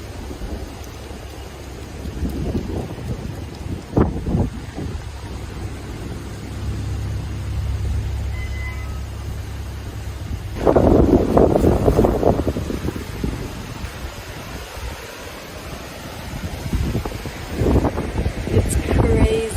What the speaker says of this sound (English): The wind grew stronger, howling through the trees as night settled in.